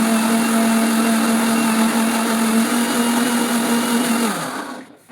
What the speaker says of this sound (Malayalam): അങ്ങനെ മിക്സിയിലിട്ട് അടിക്കുന്നുണ്ട് ഞാൻ.